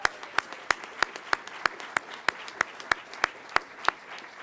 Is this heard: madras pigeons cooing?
no